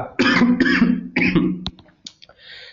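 A person coughs several times in quick bursts close to the microphone, followed by a few smaller throat-clearing sounds.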